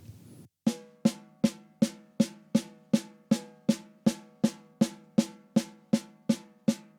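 A drum struck with a stick held in an open, bouncing grip, about sixteen even strokes in a steady rhythm, each ringing round and full before fading, close and alone.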